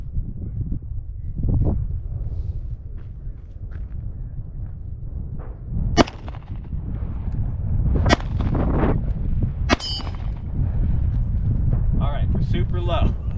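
Outdoors in gusty wind, several sharp pistol shots ring out at a steel plate target, spaced a couple of seconds apart and fairly close, mixed with buffeting wind noise.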